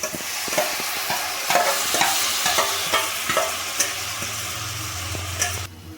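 Vegetables frying with bottle gourd leaf paste in a pan, a continuous close sizzle broken by repeated sharp clacks of a spatula stirring, with a low hum near the end.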